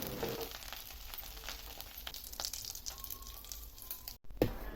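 Boiled taro roots frying in hot oil in a home kitchen pan, a quiet, steady hiss with fine crackling and occasional stirring scrapes, heard alone at low volume.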